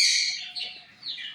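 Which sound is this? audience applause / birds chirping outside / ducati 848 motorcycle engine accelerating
birds chirping outside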